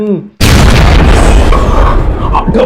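A Diwali firecracker bursts with one loud, sudden boom right after a short bit of voice, then a long rumbling roar and crackling debris slowly fade.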